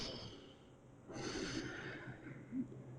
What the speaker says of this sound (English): Long inhales, long exhales.